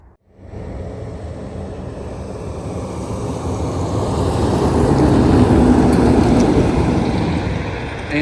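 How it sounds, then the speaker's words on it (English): A heavy tow truck approaches along a road in the Arctic wilderness, its low engine rumble and tyre roar swelling steadily from distant to close and loud, with no talking. "I could tell that was a tow truck before I could even see it"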